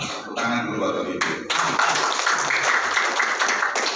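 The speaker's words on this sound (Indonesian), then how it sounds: "Tepuk tangan dulu bapak ibu" Audience clapping at an Indonesian business presentation, a dense burst of hands that begins after a brief lull and carries on steadily under a speaker's voice.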